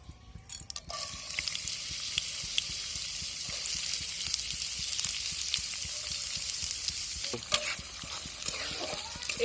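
Red lentils fry in white oil in a pan, giving a soft, steady sizzle with light stirring scrapes throughout, fairly quiet and close.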